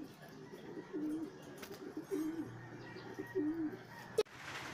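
Off-color racing pigeons coo softly in low, repeated bursts about once a second, faint against background hiss, with a sharp knock near the end.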